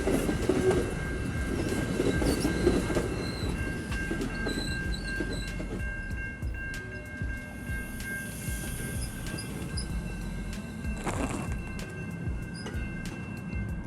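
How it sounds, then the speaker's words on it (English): An Exo commuter train heading back to Montreal rolls through a level crossing, wheels clattering and rumbling close by, with a crossing bell ringing steadily and a brief screech as the cars pass, fading gradually. "The next and final time the crossing gates trigger is for our return train to Montreal."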